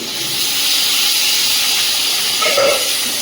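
Bitter gourd and potato sizzle loudly in a pan over a cumin and onion tempering, a steady close hiss with a slight swell near the end.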